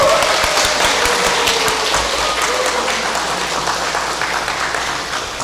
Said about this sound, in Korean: 모두 서로 응원하는 마음을 담아 따뜻하게 박수 한번 부탁드리겠습니다